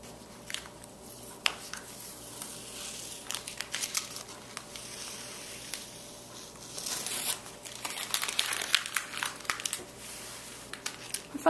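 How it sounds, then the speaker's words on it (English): Tape is peeled away from a watercolor stencil painting, producing close crinkling and tearing rustles in a long uneven series of bursts that grow busier toward the end, with no talking. "So now all I have to do is remove the tape."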